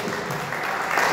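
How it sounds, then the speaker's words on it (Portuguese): A church congregation gives a dense round of applause during a worship service, a continuous wash of clapping that swells slightly toward the end. "Dê uma salva de palmas para o Senhor"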